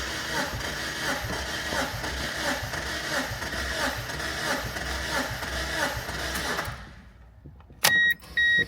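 A 2001-2005 Mazda Miata engine cranks steadily during a compression test, its rhythmic starter chug running loud for several seconds before cutting off, then a couple of short electronic beeps.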